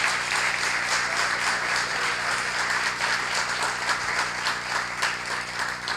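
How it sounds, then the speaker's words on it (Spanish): A Senate chamber audience applauding at a participatory dialogue on disability inclusion, dense sustained clapping from many hands filling the room at even strength throughout, with no talk over it. "Un especial, creo yo, aplauso"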